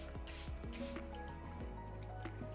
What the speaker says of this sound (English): So I'm just gonna go in and set this look with my Charlotte Tilbury setting spray.